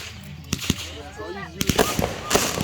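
Summer fireworks go off in a quick series of sharp bangs and crackles, loud and close, with voices talking between the blasts.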